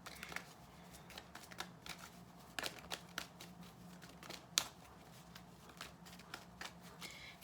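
Tarot cards being shuffled and drawn by hand, a soft papery riffle with repeated crisp snaps and flicks, close and quiet, with no talking.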